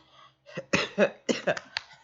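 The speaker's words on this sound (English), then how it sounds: "So I might cough a little bit throughout the video" Several short, rough coughs from a person with bronchitis in quick succession, close to the listener, with brief pauses between bursts and no talking.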